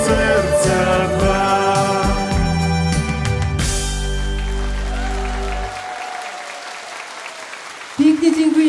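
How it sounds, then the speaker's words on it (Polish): Audience applause fills a concert hall as a live song ends. Clapping builds under the last held notes of the music, then continues as a broad wash of sound in the closing seconds. "Wielkie brawa."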